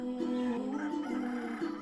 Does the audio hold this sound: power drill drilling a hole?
no